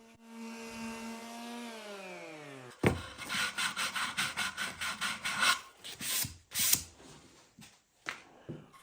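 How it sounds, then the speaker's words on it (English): Dried joint compound being sanded on a built plywood box, with a rapid rhythmic run of close back-and-forth rasping strokes, then a few slower scrapes, after a brief tonal sound at the start. "The joint compound is dry, so I can go ahead and sand it smooth."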